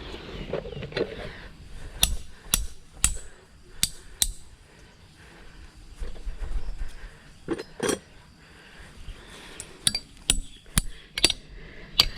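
Sharp metallic hammer strikes ring out while someone climbs toward a giant honeybee nest, arriving in irregular bursts of two or three blows with pauses between, close and crisp over a faint outdoor background.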